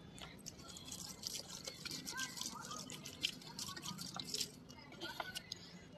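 Water poured from a bottle onto potted aloe vera plants, a close, steady splashing and dripping trickle that runs for several seconds with small gurgles.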